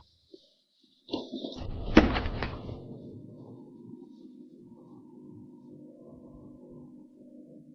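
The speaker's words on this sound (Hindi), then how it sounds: "तुम जाओ, दरवाजा बंद कर दो।" A door is shut with a firm thud and a short rattle of its frame, then a low lingering hum and quiet room tone follow.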